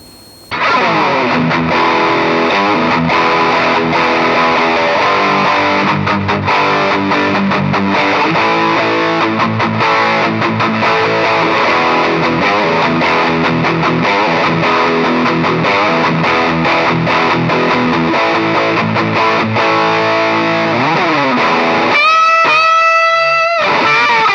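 A heavily distorted electric guitar, a Passion BPS-RG270, plays sustained chords and riffs, loud and continuous, ending with a quick high run.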